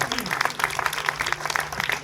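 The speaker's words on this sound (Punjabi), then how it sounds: "ਤਾੜੀਆਂ ਮਾਰ ਦਿਓ" An audience inside a cinema hall claps through a special film show, a steady patter of many hands with a faint voice and hum underneath.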